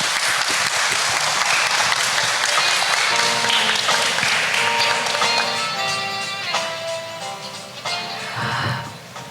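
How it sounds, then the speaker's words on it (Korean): Audience applause welcomes four speakers, artists and curators, onto the stage at a student art competition event in Jeju. The clapping is steady and full at first, then thins and tapers over about nine seconds while musical tones ring underneath. "네 분을 다시 한번 큰 박수로 환영해 보겠습니다."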